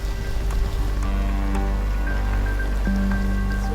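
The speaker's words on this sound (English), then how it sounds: "The rain is absolutely torrential." Heavy torrential rain pours down outdoors, a dense constant wash of drops and patter with a deep rumbling undertone, with no voices.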